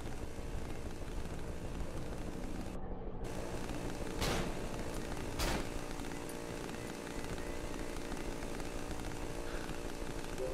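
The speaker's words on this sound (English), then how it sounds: "Chainsaw." A chainsaw in the horror video game Cry of Fear drones steadily and loudly throughout, a harsh continuous buzz broken by a short dropout and two sharp bursts.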